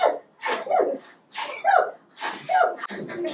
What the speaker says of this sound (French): le directeur se remit à éternuer de plus belle.